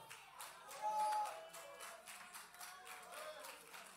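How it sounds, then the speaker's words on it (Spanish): A church congregation applauding, a quick, soft patter of many hands clapping that rises briefly and then settles into a steady rhythm. "Si ese aplauso es para mí, está bueno."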